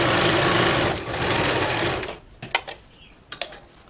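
A sewing machine stitches a silk pavadai with a patti hook, running in a steady loud mechanical whir for about two seconds before stopping, followed by a few sharp clicks and handling knocks, with no talk.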